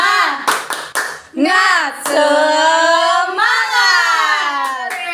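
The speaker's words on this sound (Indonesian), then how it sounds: "Kita mulai tepuk semangat." A primary school class performing a rhythmic spirit-clap routine, sharp group claps in a quick pattern together with children's loud chanting voices, close and lively.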